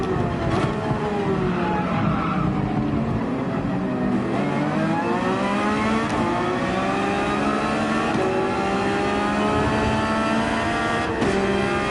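Race car engine in the video game Gran Turismo 7 at Red Bull Ring, a loud sustained roar that rises and falls through gear changes and drops under braking, heard alone.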